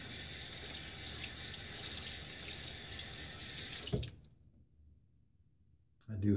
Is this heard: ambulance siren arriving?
no